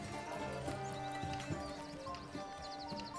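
Horses clip-clop in a medieval village in the city-building game Manor Lords, a steady patter of hooves over continuous game ambience with occasional whinnies and faint bleating.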